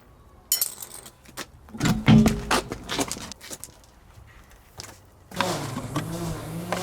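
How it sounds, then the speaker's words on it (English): Wheel nuts are removed and the wheel is taken off a Vauxhall Astra VXR, with close metallic clinks, clunks and rattles at irregular intervals, followed by a steady whirring tool sound. "take the wheel nuts off, take the wheel off."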